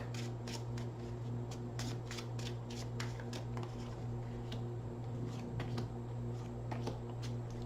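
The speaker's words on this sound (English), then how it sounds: "2 more shuffles off the top of the deck." Quiet riffling and flicking of tarot cards being shuffled, a run of soft crisp snaps over a steady low hum, no talking.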